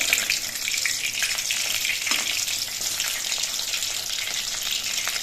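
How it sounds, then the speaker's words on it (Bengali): Water lily stem fritters fry two at a time in a small wok, giving a steady, close hiss of bubbling oil with faint crackles throughout and no talking. "আমার কড়াইটা ছোটো বলে আমি দুটো করেই একসঙ্গে ভেজে নিচ্ছি ভেলাগুলো"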